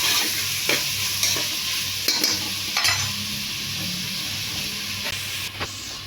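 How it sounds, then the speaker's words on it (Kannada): Tomatoes fry in a pan with a steady hiss of sizzling, while a spoon scrapes and clinks against the pan at intervals during stirring. The sounds are moderately quiet and close, with no voices. "ಸೊ ನೆಕ್ಸ್ಟ್ ಟೊಮ್ಯಾಟೊ ಹಾಕಿ ಚೆನ್ನಾಗಿ ಫ್ರೈ ಮಾಡ್ಕೊಳ್ಳೋದು ಅಷ್ಟೇ"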